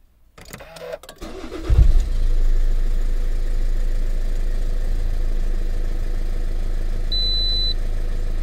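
A car engine cranks briefly and catches, then settles into a loud, steady idle close by, with a short electronic beep near the end; no talking.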